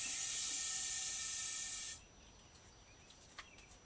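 Brake-O-Lean brake cleaner aerosol sprays into a lava lamp bottle in one loud, steady hiss lasting about two seconds, then cuts off to quiet room noise with a faint knock.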